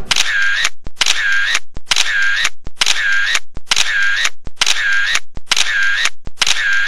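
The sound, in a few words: camera shutter taking photos at a selfie zone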